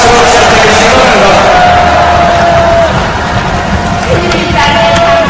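Audience applause and cheering fill a party convention hall as delegates adopt the platform, a dense, steady wash of clapping and crowd noise throughout with no gaps.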